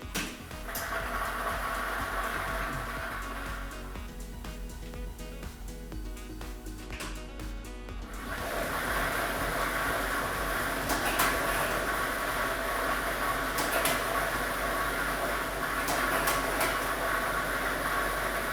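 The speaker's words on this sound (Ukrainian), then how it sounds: "І ми вмикаємо. Лототрон." A lottery ball drawing machine whirs with a continuous mechanical rumble as the plastic balls tumble and rattle inside. The noise briefly thins, then returns louder and steady.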